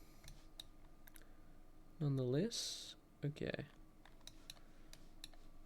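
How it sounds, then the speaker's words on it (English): Computer keyboard keys and mouse clicks at a desk during a game session, a scatter of sharp, fairly close ticks and taps, interrupted by a short spoken phrase. "The only thing is the keyboard and mouse are probably quite loud"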